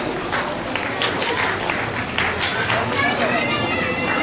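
An audience claps at an evening school award and result-day ceremony, with scattered, uneven claps over a steady background of crowd murmur and chatter.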